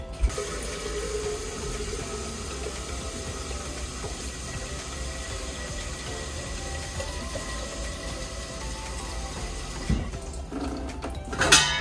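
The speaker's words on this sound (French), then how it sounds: "on va le remplir d'eau avec une carafe" Water poured from a carafe into the upper chamber of a Berkey gravity filter with black filter elements, a steady continuous splashing fill that runs close and moderately loud, ending with a few louder clunks near the close.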